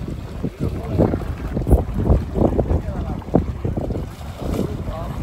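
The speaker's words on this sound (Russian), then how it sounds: "Ветер его несет" Gusty wind buffeting the microphone in uneven bursts, with rumbling low thumps and open-water ambience around it.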